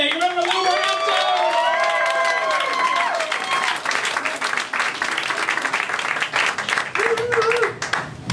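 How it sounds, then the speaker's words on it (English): An audience applauds and cheers for comedian Lew Morgante at Cozzy's: a dense, steady wash of clapping, with loud whoops and shouted voices rising over it early on. "I want you to give a round of applause for Lew Morgante."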